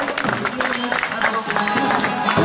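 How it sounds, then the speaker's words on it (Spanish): A crowd applauds the graduation of the rodeo queens at a Chilean rodeo club event in Chonchi, with steady clapping and some cheering heard through a reverberant space. "Fuerte el aplauso para la graduación de las reinas del Rodeo."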